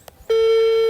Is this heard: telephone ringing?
yes